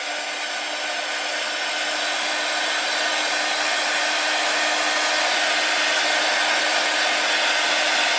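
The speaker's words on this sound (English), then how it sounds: "the best thing to use to actually shrink the heat shrink is the hot air gun, not the lighter" A hot air gun blows continuously to shrink heat shrink tubing on wiring, a loud, steady, close whooshing drone with no pauses or talk.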